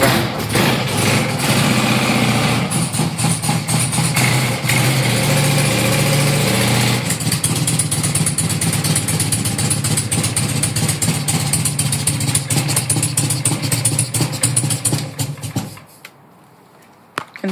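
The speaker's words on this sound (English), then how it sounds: "It's a big engine, big block, so it takes a bit to warm up." A large engine idles steadily and loudly with a deep, rumbling throb, then cuts off abruptly near the end, leaving near silence.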